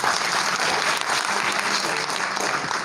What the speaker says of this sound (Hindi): रोमा जी के एनर्जी के लिए दोबारा से ताली बजाए